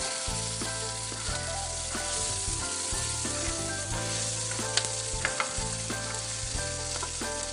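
Fried green chillies are tossed with spices and asafoetida in a sizzling pan, giving a continuous dense frying hiss under a steady background hum, with a few sharp scrapes midway.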